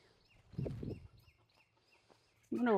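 Chickens near a quail house cluck and chatter faintly in the background, with a louder burst of bird sound and a brief fowl call at the end, amid low rustling.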